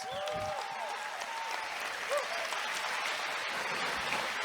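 An audience applauds steadily for the speaker's wife as she stands at a live event in Salt Lake City, the clapping sustained and fairly even throughout, with a faint voice briefly audible early on.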